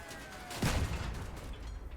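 A heavy cannon fires once in the Crossout vehicle combat game, mounted on a spider-legged build. It comes as a single loud, booming blast with a rumbling tail under ongoing game noise.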